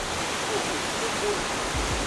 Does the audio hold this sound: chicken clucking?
no